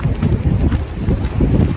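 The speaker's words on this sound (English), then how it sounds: "The wind is blowing me away" Strong, gusting wind in a heavy Edmonton snowstorm buffets the microphone with a continuous low roar that swells and dips across the short stretch, close and loud, with no speech over it.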